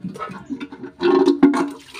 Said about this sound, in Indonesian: sekarang kita akan siram dulu